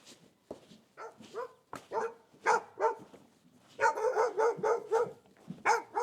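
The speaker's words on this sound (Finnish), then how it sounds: "Okei, tuolla näkyy toi koira." A dog in a remote Vietnamese village barks in a run of sharp, repeated barks with short yips. The barks are moderately near, come in uneven bursts and grow busier toward the end.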